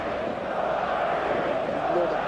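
Steady roar of a stadium crowd in the eFootball video game before kickoff, a dense continuous wash of massed voices at constant loudness with no distinct calls standing out.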